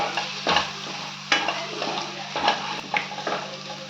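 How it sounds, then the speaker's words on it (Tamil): Chicken pieces for garlic chicken are stirred in a hot pan with pepper, turmeric and garam masala, giving a close, steady sizzle broken by scraping stirs of a spoon against the pan. "இப்போ சிக்கனை போட்டு நல்லா வதக்குங்க நல்லா கொஞ்சம் சாஃப்ட் ஆகிற வரைக்கும் வதக்குங்க"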